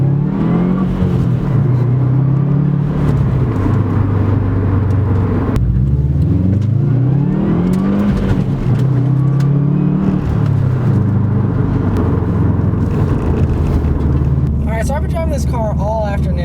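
A 2013 Subaru WRX engine drones steadily from inside the cabin, rising and falling in pitch as the car shifts through the gears and accelerates, with someone talking over it throughout.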